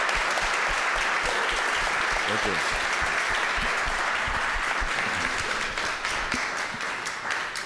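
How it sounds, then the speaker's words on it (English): An audience at a live event at Art Basel Miami Beach breaks into sustained applause, dense and steady throughout. A voice speaks briefly over the clapping. "Can we have a round of applause for Eggshells?"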